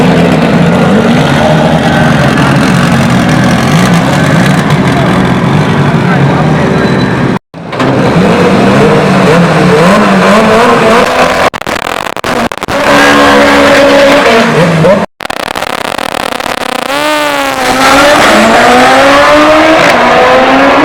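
A drag-racing car tears down the track at a World Cup Final event, its engine roaring loud and continuous with rising revs and shifting pitch, briefly cut twice, and a commentator's voice running over it.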